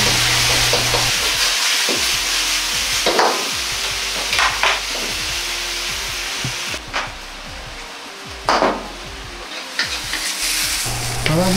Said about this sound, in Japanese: 最後に半熟に炒めた卵を合わせて完成です。